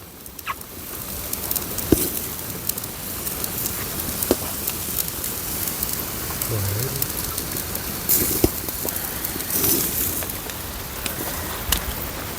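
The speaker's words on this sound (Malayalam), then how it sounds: "നല്ല മഴയാണ് വരുന്നത്." Heavy rain patters steadily outdoors over an open-air chicken cooking spot, a dense hiss broken by sharp drips and occasional crackles.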